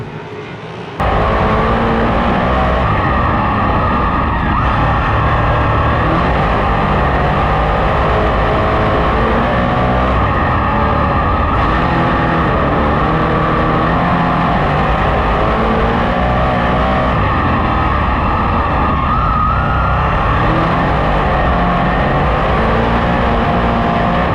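Race cars roar continuously around a dirt track during a season opener at Thunder Mountain, several engines close together and loud, revving and droning as they battle for position, with no voices over them.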